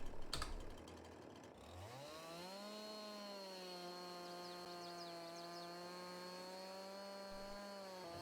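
A chainsaw in Farming Simulator 22 used to fell trees, starting with a sharp knock, then revving up and holding a loud, steady buzzing drone with a few brief high chirps over it.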